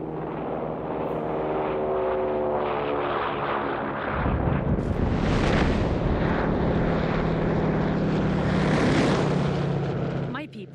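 A supply-drop aircraft in Company of Heroes 3 drones overhead with a steady propeller hum that swells louder midway, mixed with game ambience and battle noise.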